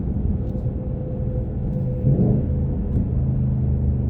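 A 2020 Ford Mustang Bullitt V8 rumbles steadily while driving, a dense low-frequency drone heard close from inside the cabin, swelling slightly midway as the engine pulls harder, with no talking over it.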